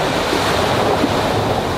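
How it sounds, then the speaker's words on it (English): Loud ocean waves surging inside a dark sea cave, a continuous close, heavy roar of crashing and washing water with no voices. "hopefully these waves chill out because they're so loud"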